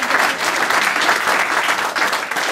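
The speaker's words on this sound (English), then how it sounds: "to get to give them another round of applause" A room of guests at a presidents lunch claps steadily, a dense and loud round of applause that holds evenly throughout without cheering.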